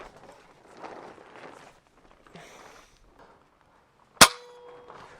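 A single sharp crack from a Winchester Model 70-35 big bore PCP air rifle, loud and close with a brief metallic ring, following a few seconds of quiet handling and rustling.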